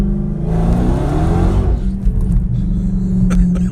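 A Dodge Charger Scat Pack sedan accelerating hard on the street, its engine revving loudly and rising in pitch for under two seconds before settling into a deep, steady rumble close by.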